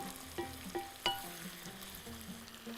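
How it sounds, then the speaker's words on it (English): Onions sautéing in a pan for Bahraini jareesh give off a soft, steady frying sizzle, with a few light clicks and scrapes of stirring. "We're going to saute the onions."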